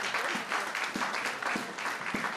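A church audience at a worship service applauds steadily, a dense, moderately quiet patter of many hands clapping throughout, with a few sharper thumps spaced through it.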